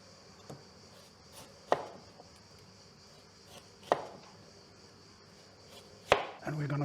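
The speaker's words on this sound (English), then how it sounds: "We're going to cut them lengthwise, a little bit thinner than the aubergines" A knife chops lengthwise through potatoes onto a board in a few separate sharp knocks, several seconds apart, in an otherwise quiet room.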